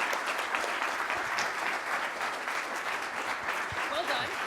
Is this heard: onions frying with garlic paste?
no